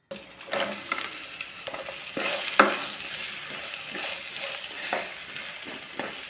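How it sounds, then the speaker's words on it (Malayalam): Two medium onions, thinly sliced, sizzle and sauté in a pan for a chickpea curry, with a steady frying hiss and repeated scraping stirs throughout, close and fairly loud, no voices. "ഇത് നന്നായിട്ട് വഴറ്റിയെടുക്കണം സവാള ബ്രൗൺ കളറാവുന്നത് വരെ നന്നായിട്ട് വഴറ്റിയെടുക്കാം"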